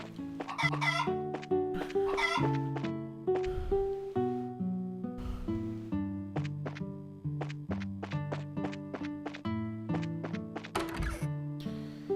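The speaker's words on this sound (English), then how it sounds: "Oh, chicken! Chicken!" Chickens in the video game Trails in the Sky cluck in short bursts over steady plucked background music, close and moderately loud throughout.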